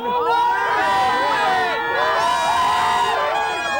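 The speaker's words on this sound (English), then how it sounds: "The chant of no wind is going up from the crowd." A large outdoor crowd on New Year's Eve in Las Vegas chants and cheers, a dense, loud swell of many voices with rising shouts carrying steadily throughout.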